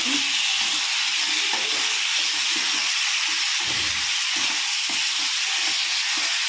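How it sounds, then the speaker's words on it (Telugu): Chicken curry being stirred in a hot pan, a steady loud sizzle and hiss with soft scraping and stirring knocks throughout. "ఇంకా ఒకసారి ఇలా కలిపేసుకోవాలి మొత్తం"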